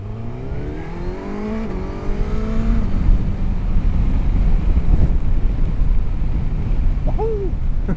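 A motorcycle engine rises through the gears with climbing revs, then settles into a steady run at speed, buried under heavy wind rush.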